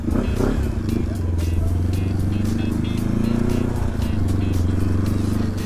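A motorcycle engine runs loudly and steadily close by on a club group ride in Temuco, Chile, a throbbing low drone throughout, with people talking over it in Spanish.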